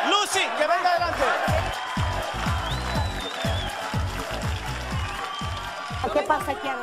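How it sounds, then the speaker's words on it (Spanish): Studio audience applause on a Spanish-language talk show, a steady wash of clapping with rhythmic low thumps running throughout, fairly loud and close, with voices talking over it. "Un aplauso para Lucy, que venga adelante"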